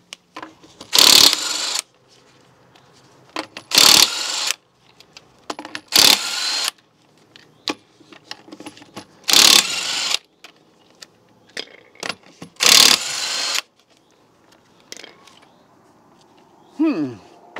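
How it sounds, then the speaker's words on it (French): An Ishika 18-volt cordless impact wrench, used while changing car tyres, fires in about six loud, close hammering bursts of roughly a second each, separated by quieter gaps with faint handling noise. "on va tester une clé à choc"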